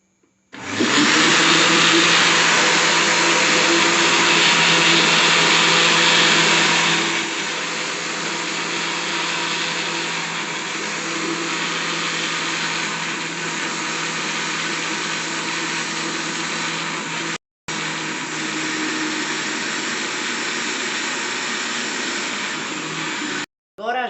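A kitchen blender mixes savory pie batter, a loud continuous motor whir running steadily for over twenty seconds, its pitch settling lower after a few seconds, with a brief cut near the end.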